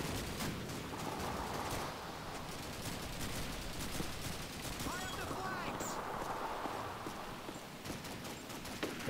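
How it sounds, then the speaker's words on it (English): Machine gun emplacement fire in Call of Duty 2 at Pointe du Hoc, dense rattling bursts and scattered shots throughout, moderately loud beneath battlefield noise and occasional talk. "this one has a machine gun emplacement"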